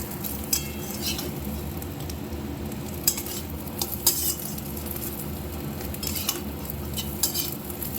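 Steady sizzling of fish roe frying in a pan, with repeated scraping and clinks of a utensil stirring and breaking it up.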